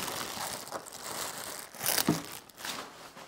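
Plastic bag rustling and crinkling as a 3D printer part for a Creality K2 Plus is pulled out, with a sharper crackle in the middle, close and fairly quiet.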